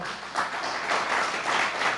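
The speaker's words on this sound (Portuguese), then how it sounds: "Aplauda ao Senhor com o seu melhor." A church congregation claps during a worship service, a full, steady roar of many hands rising in waves over two seconds, fairly loud and reverberant, with no clear speech.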